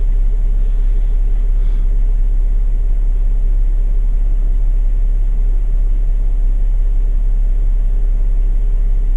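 A stock Jeep JK Sport climbs Black Bear Pass, its engine a steady, loud, close rumble that runs unbroken throughout with no talking.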